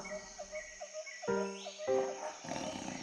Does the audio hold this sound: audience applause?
no